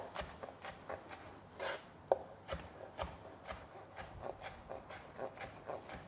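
A knife finely minces sun-dried tomatoes on a wooden board, producing quiet, rapid, rhythmic chopping taps with soft rubbing scrapes between them and one sharper knock, close up and faint.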